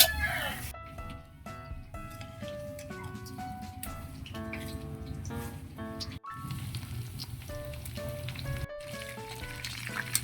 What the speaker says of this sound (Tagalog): Mga tambay, ang ating piritong pork chop.